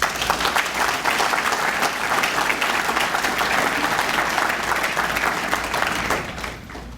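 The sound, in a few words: audience applause at a police academy graduation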